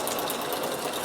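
A sewing machine runs a steady zigzag stitch through aluminium can material, a continuous close whirring drone with fast rhythmic needle chatter and no breaks.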